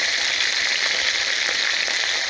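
Onion, ginger and dried chillies fry in hot oil in a wok, giving a steady, bright, even sizzle that hisses on without a break.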